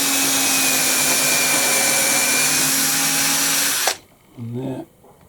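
A power drill bores 3 or 4 millimetre holes through a wooden back panel, a loud steady whine for about four seconds that stops abruptly, followed by brief speech.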